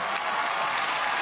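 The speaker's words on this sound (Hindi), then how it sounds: "जशनप्रीत सिंह के लिए जोरदार तालियां" A studio audience on a Hindi kids' singing show claps loudly and steadily, a dense, sustained burst of applause filling the whole short moment.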